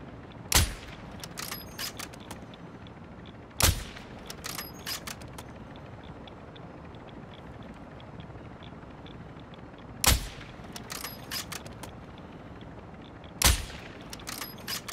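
A few sharp gunshots crack out in Call of Duty: Modern Warfare II DMZ from a RAAL machine gun. They come as isolated, widely spaced single reports rather than a sustained burst, loud against a low, steady game background.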